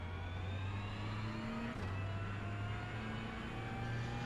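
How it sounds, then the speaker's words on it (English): Ferrari GT3 race car engine in the iRacing sim at Laguna Seca, revving up through the gears with a steady rising drone and a quick break at a gear change, close and loud throughout. "Up through the gears, I start to set myself up on the left-hand side."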